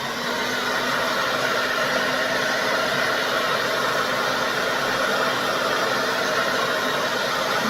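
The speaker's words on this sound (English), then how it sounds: "So let's go ahead and let's do it with our blow dryer first." A blow dryer runs on high, heating scorch paste on wood, a loud, steady whooshing hum with no breaks, close by for the whole stretch.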